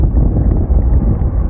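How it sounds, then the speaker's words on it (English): Strong wind buffets the microphone while cycling uphill near a ferry terminal on Cape Breton Island, a loud, continuous low rumble with gusty fluctuations and no talk. "It is very windy."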